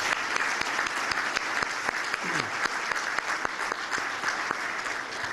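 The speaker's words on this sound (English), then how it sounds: "If we can have a round of applause for new members" A room full of people applauds steadily for new members at a chamber of commerce breakfast, a dense, even clapping sustained throughout with no speech over it.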